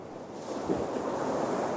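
Sea waves washing onto the shore, a steady broadband surf wash with wind noise over the microphone and a brief surge partway through, continuous and fairly close.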